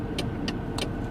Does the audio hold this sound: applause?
no